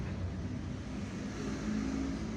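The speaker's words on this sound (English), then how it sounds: "There is traffic even here" Street traffic in Algiers, a steady low rumble of car engines with a slight rise in revving, close and continuous, with no voices.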